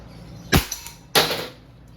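Umarex Walther CP99 .177 CO2 air pistol firing twice in single action, two sharp, close pops about half a second apart, the second slightly louder with a short ringing tail.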